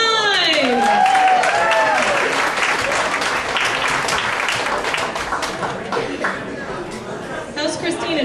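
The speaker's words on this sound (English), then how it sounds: "Let's give a nice round of applause for our next contestant" Audience applause and cheering greet a contestant at a singing show, loud at first with whoops and voices over the clapping, then gradually thinning out.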